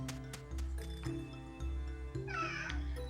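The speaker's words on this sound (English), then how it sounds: "And my cat's talking to me" A house cat meows repeatedly nearby, drawn-out tonal cries rising over a background of looping video-game music and soft clip-clop sounds.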